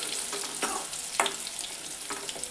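Cumin seeds and garlic paste sauté in hot oil, a quiet, even sizzle punctuated by a few soft spoon scrapes and stirs.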